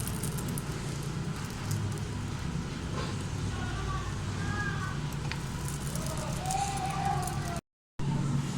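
Frozen dal puri fry lightly in hot oil, giving a steady, close crackling sizzle that runs throughout, broken only by a momentary gap near the end.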